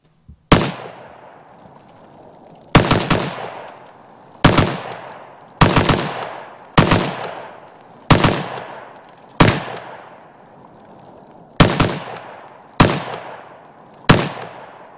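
A WBP 5.45mm AK74-style rifle fired at an outdoor range in ten sharp, loud single shots with short echoing decays, spaced roughly one to two seconds apart.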